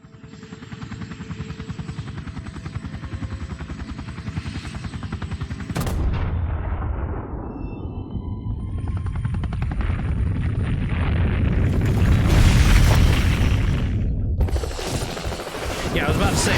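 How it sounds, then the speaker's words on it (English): A helicopter drones steadily in Resident Evil 3 Remake before a sudden loud blast hits, followed by a rising, rumbling roar of the explosion and rotor noise that swells and then partly fades. "we can get so effed up in this helicopter just from the reverberation of the blast"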